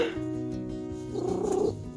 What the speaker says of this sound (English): Friendly kitty.